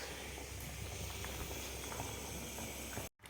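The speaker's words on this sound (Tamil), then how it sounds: "இந்த பக்கம் பாருங்கள், பச்சடி வந்து கொதிச்சுன்னு இருக்குது." Pumpkin pachadi bubbling in a pot on the stove: a steady, soft simmering hiss with faint popping, continuous and fairly quiet, cut off abruptly near the end.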